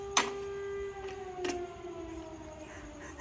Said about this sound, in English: I like that siren going off.